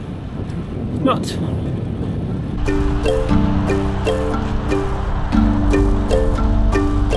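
Gusty wind buffets an outdoor microphone on a cold day, a low continuous rumble that swells and persists under talking voices.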